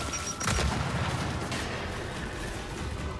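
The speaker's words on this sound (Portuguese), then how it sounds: "Granada de fragmentação!" A frag grenade detonates in the Gears 5 video game, a loud broad blast with a heavy low rumble that stays steady and fills the scene with dense noise.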